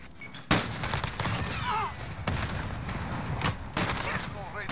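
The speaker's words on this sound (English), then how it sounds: "See, look, I'm sniping the whole time." Sniper rifle fire in an online shooter game, several sharp loud shots with a burst near the start and further cracks spaced through, under excited talking from players.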